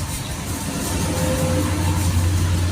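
A Yamaha RS100 motorcycle engine runs steadily, a low continuous drone holding even level throughout with no speech over it.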